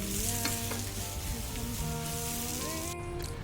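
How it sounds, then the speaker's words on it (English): Mushrooms sauté in a pan, a soft, even sizzle and crackle like light rain, close and continuous, with faint tonal background music underneath. "In the same pan, I also sauteed my mushroom."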